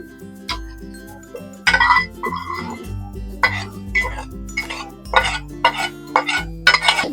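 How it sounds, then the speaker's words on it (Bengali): A spoon stirs kadhi pakora curry, made with yogurt and gram flour, in a pot, giving close, intermittent metallic clinks and scrapes in short bursts, with a brief cough-like sound between them. "ভালো করে আমি নাড়িয়ে দেবো"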